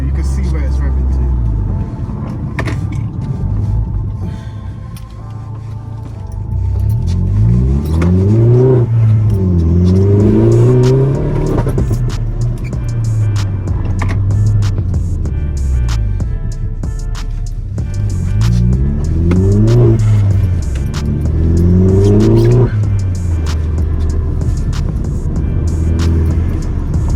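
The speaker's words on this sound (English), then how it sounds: "You can see where it's revving to." Vauxhall Corsa VXR engine revving up and dropping back in repeated loud, rising-and-falling sweeps over a steady idle hum, recorded close from inside the car with talk over it.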